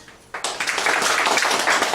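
A classroom group bursts into dense, steady clapping after a brief quiet moment, the claps close and loud and continuing without pause to the end.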